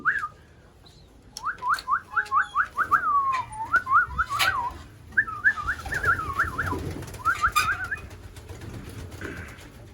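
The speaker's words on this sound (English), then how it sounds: "That's a baby grizzle from the SV pigeon." Racing pigeons in a loft, including a young grizzle, giving repeated rolling coos and warbling calls in bursts close by, several birds overlapping against a quiet background.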